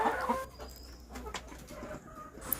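BV380 laying hens kept on a floor in a small poultry setup cluck faintly near the start, followed by quieter scattered bird sounds in a calm background.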